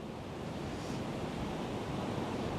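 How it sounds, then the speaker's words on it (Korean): Typhoon wind and high surf batter the Busan shoreline near Gwangalli, a steady loud roar of broadband wind noise and crashing waves with no talk over it. "이 태풍이 근접하면서 바람이 점차 강해지고 빗방울도 굵어지고 있습니다. 파도도 높아지고 있어서"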